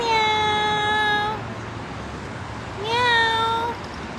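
A cat gives two clear, drawn-out meows separated by a short pause, close and fairly loud over a faint background hum.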